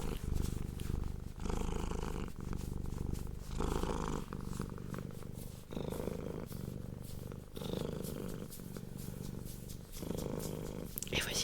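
A cat purrs close to the microphone in a continuous rhythmic rumble, each breath cycle audible, with a soft voice occasionally speaking over it.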